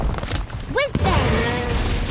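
Whizbang spell explosion in the video game Harry Potter Magic Awakened: a bright rising whistle, then a loud burst with crackling, sizzling sparkle trailing off over game noise and a voice.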